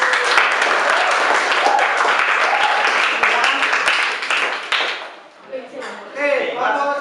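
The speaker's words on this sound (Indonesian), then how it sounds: "Beri tepuk tangan dulu" Classroom applause for group 4 during a school lesson, dense clapping from many students for about five seconds, then fading into quieter chatter and voices at the end.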